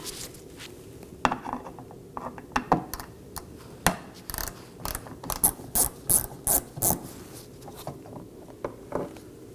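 A hand ratchet backs out a T15 screw from the inner liftgate handle of a 2018-2024 Chevrolet Equinox, giving quick bursts of sharp, close clicking with short pauses between them, and no talk.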